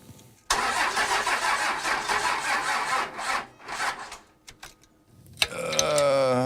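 Slow, labouring cranking from a diesel ramp truck engine on a low battery, a loud rhythmic churn lasting several seconds before fading into a few clunks, followed by a higher whining tone.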